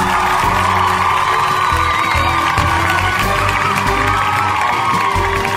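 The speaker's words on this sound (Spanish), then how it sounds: "El aplauso bien fuerte." An audience at a live anniversary concert cheers, whoops and applauds loudly and continuously during the band introductions, with shouts rising out of a dense crowd roar.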